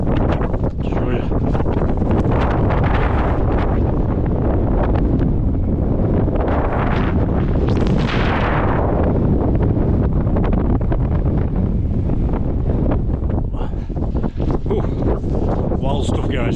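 Strong wind roars and buffets the microphone during a hike through a snowstorm, loud continuous gusts that swell and ease over the whole stretch.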